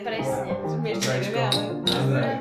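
Glasses clink together in a celebratory toast to finishing the first year of university, a few bright, sharp taps scattered beneath lively conversation.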